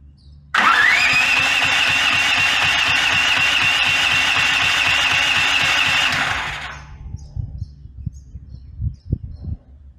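A Duromax 13000 generator running on propane starts with a sharp catch, then holds a loud, steady engine drone for about six seconds before cutting out and leaving faint knocks and rattles.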